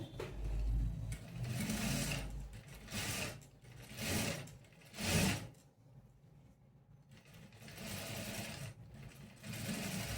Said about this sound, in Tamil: ரைட் சைட்லேருந்து ராங் சைடுக்கு திருப்பும்போது இப்போ டாப் ஸ்டிச் போட்டுக்கிறேன்